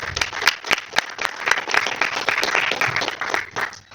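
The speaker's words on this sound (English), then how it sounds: "let's give everybody a round of applause again" An audience at a speech and debate event claps in a lively burst, individual claps distinct and close, with a few cheers mixed in.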